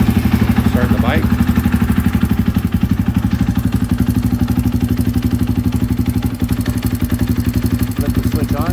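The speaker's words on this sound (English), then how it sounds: "Let's get the fuel pump going. Start the bike." A KTM 500 motorcycle engine fires up and runs, its rapid single-cylinder thumping loud and close and steady for the whole stretch, with a brief clattery lift in revs near the start.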